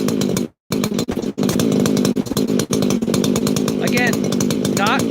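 A chainsaw idles loudly and close after heat cycling, a rapid buzzing putter with a few short dips, and a voice speaks briefly over it near the end.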